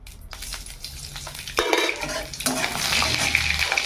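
Nigella seeds hit hot oil in a wok for a cabbage-stuffed paratha dish, a spatula clinking first, then a sudden sizzle that swells into a loud, steady crackle with no talk.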